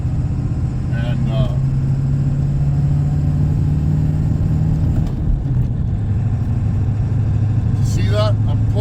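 A vintage diesel truck engine pulls through the gears at around 2,500 RPM, a loud, steady droning growl heard from the cab with a brief dip at a shift, while a voice talks over it throughout.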